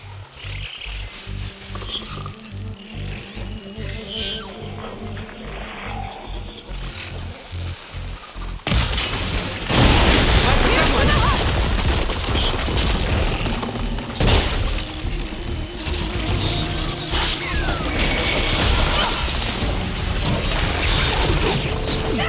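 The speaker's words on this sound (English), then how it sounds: "See those glowing crystals? Takes one hit to detonate." Glowing crystals detonate in the video game Horizon Forbidden West. A sudden loud shattering blast cuts in partway through, followed by a sustained crackling, rumbling roar of debris over the game's music and ambience.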